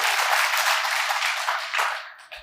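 Dense applause from an audience at a religious gathering, a steady, loud wash of many hands clapping for a couple of seconds before tapering off.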